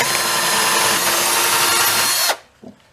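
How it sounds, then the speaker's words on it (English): A power drill whirs steadily through wood for a couple of seconds, then cuts off abruptly, followed by a brief faint knock. "drill a little bit like so, and then I'm going to go to the other side and drill all the way through"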